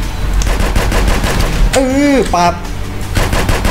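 Gunfire in GTA San Andreas rattles out as dense, continuous bursts under game audio, broken briefly by a rising and falling tonal effect in the middle, with a short spoken word heard.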